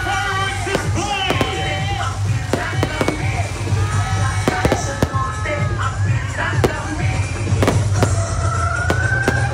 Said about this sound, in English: The fireworks display!